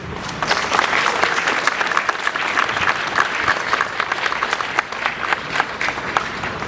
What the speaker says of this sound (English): Please join me in a round of applause for their extraordinary efforts